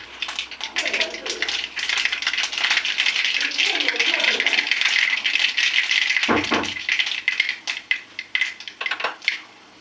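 Mustard seeds crackle and pop in hot oil with dense rapid rattling, loud and close, thinning into scattered pops toward the end.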